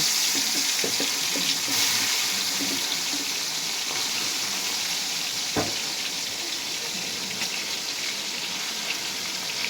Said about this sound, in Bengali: তেল গরম হয়ে গেছে, এখন আমি মাছগুলো এর মধ্যে একে একে ছেড়ে দিব।